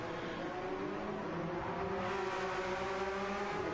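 Race cars on the Grand Valley – Highway 1 track in Gran Turismo, engines droning and revving at steady high pitch as cars run side by side, a continuous moderately loud roar with no talk.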